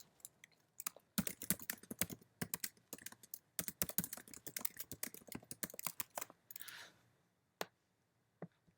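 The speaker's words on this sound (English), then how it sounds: "here's where I'm going to type in what I want them to do" Someone types on a computer keyboard in irregular, close, crisp bursts of key clicks with brief gaps, ending in a few scattered taps.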